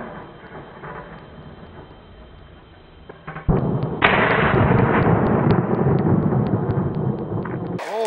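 A single loud shotgun blast at a clay target, with sharp impulsive onset and a long rumbling decay outdoors, heard alone.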